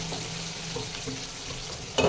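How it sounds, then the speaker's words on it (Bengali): Chicken masala is sautéed and stirred in a pan, a low steady frying hiss with occasional soft scrapes, then a brief louder burst of sizzle and clatter at the very end. "দিয়ে এবার মশলাটা ভালো করে কষিয়ে নেবো"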